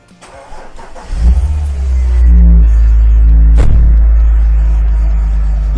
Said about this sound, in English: the cranking of the engine wasn't like very great